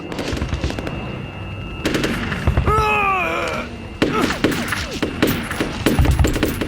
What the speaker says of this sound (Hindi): यहाँ हम हैं, गोली चलाना बंद करो।